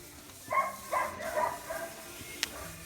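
Dogs in a kennel give a short run of three or four close barks and yips, then fainter whimpering, ending with a single sharp high click.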